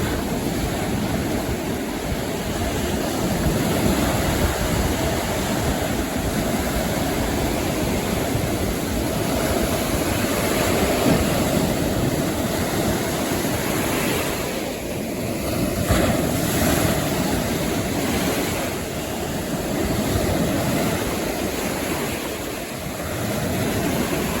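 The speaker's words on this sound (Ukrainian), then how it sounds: "Море трошечки штормить, але піде купатися." Surf from a slightly stormy sea washes in steadily at a beach at Golden Sands, Bulgaria, a continuous broadband roar with wind noise buffeting the microphone and no clear speech.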